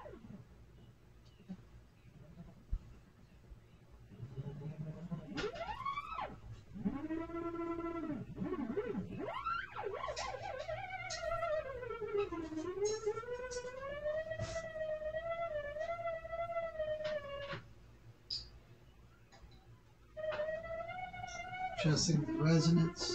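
Moog Etherwave theremin played through Behringer Neutron synthesizer oscillators used for distortion, gliding, swooping pitches that rise, fall and bend like a siren, with buzzy harmonic-rich tones, sometimes brief and sometimes sustained, close and clear.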